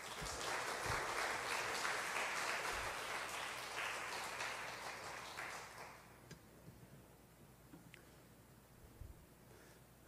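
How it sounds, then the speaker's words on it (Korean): Church congregation clapping to welcome the pastor to the pulpit, a broad steady wash of applause for about six seconds that then fades out, leaving a quiet room with a few faint sounds. "목사님 나오실 때 박수로 환영하겠습니다"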